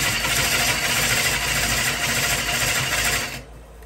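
A wood lathe fitted with a Oneway Easy Core coring tool hums and whirs loudly as a bowl blank is cored, with a steady buzzing drone and gritty cutting texture that drops off abruptly near the end.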